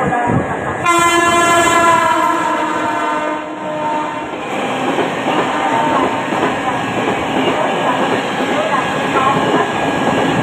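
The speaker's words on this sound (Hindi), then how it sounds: "प्लॅटफॉर्म क्रमांक 1 च्या किनाऱ्यापासून जलद गाडी जाणार आहे." An express train passes at high speed through Bhivpuri Road station on platform 1 without stopping. A loud, sustained horn blast opens the pass, followed by a close, roaring rush and rattle of the carriages.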